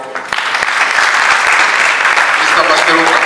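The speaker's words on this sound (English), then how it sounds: "I think let's clap for" An audience at a university guild president ceremony bursts into applause, the clapping quickly building to a loud, sustained wash of many hands, with some voices underneath.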